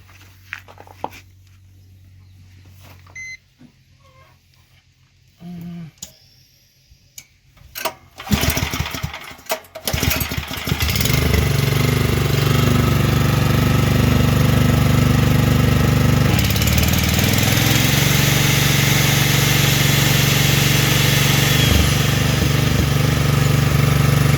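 Generator converted to run on natural gas starts after some quiet handling noises, then settles into a loud, steady close-up engine drone that continues without pause, with no talk over it.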